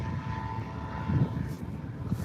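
A PZL Wilga airplane with a big 500-horsepower radial engine drones steadily overhead at a gliding championship airfield, a moderate, continuous engine hum with no talk.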